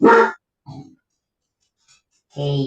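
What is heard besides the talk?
dog grunting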